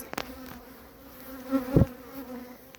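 Honeybees buzz softly around a backyard hive: a faint, steady hum with a few closer, louder passes as individual bees fly by the listener. No voices are heard.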